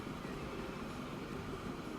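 A freight train rumbles past in the Transport Fever railway sim, a steady, close, broadband roar of wagons on track with low rolling rumble and no gaps, heard alone.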